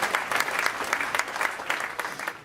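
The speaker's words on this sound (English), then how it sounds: "a big applause for you" An audience at an AI conference gives sustained, dense applause for a keynote speaker, many hands clapping evenly for a couple of seconds at moderate volume.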